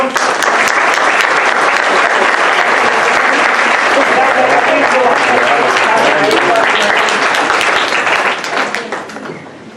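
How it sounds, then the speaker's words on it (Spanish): Loud, sustained audience applause fills a lecture hall, many hands clapping densely and steadily near the listener before it tapers off at the end. "Vamos a darles un aplauso, por favor."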